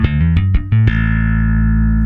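A bass guitar runs through a compressor set to a very high ratio, playing a short run of five evenly squeezed notes, the last ringing out long and sustained at a flat, steady level.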